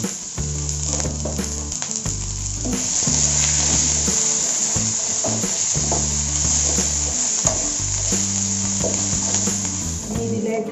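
Chopped onion sautéing in a pan for spicy steamed kinnathappam batter, a steady close sizzle with stirring scrapes, over a low droning music bed with no talking.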